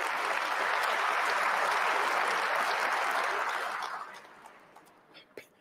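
A large audience claps at Putin's 2024 address to the Federal Assembly, dense sustained applause that fills the hall for about four seconds, then fades to a few scattered claps.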